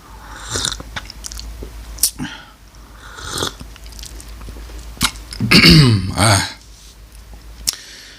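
Coffee is slurped and sipped close to the mic, with wet mouth noises and a swooping slurp in the middle, followed by a satisfied exhale and small throaty sounds.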